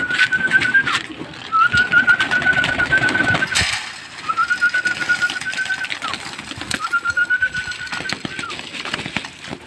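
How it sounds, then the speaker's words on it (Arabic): Pigeons gather to feed at an evening meal, with soft cooing and wing flutters close by, while a person repeatedly whistles in short rising calls over the steady bird noise. "الحمام بدأ ياكل معايا اهو."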